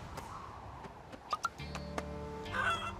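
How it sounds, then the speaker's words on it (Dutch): A cartoon chicken clucks from inside a bush, giving a few short, sharp clucks followed by a longer squawking flourish at a moderate distance, with no one talking over it. "Hoor ik die struik nou kakelen?"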